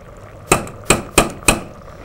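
Four sharp metallic taps close by, evenly spaced, a utensil striking a pan or hard kitchen surface during cooking, with no talk over them.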